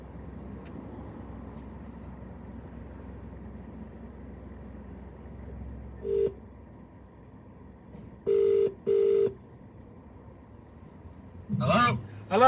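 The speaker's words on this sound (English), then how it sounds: "I'm just going to phone him now to see if he's inside." A mobile phone rings out on a call, its short tone bursts repeating a few times near the end over steady car road noise.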